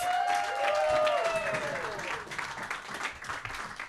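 An audience at a New York roast battle comedy show claps for a comedian, a dense burst of applause with whoops and shouts, fading slightly after the first couple of seconds.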